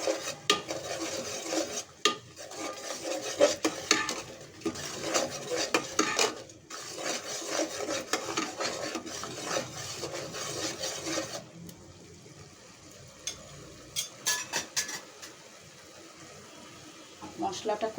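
A spoon scrapes and stirs spices with grated coconut in a metal pan, in repeated rhythmic scraping strokes with a faint sizzle, while a person talks over parts of it.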